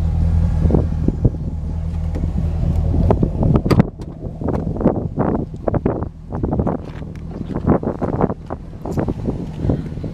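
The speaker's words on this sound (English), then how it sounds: "there are no knocks or ticks coming from the engine of the car" A car engine idling smoothly with a steady, close low hum and no knocking or ticking, soon masked by gusty wind buffeting and handling noise.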